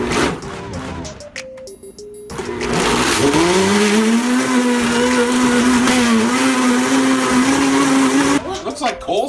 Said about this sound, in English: This blender has been used 290 times.